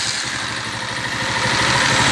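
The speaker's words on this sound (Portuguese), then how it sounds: "Vamos funcionar a motocicleta." A 2003 Honda CG 125 Titan KSE motorcycle idles steadily with a close, even single-cylinder putter, its level rising slightly toward the end, with no talk.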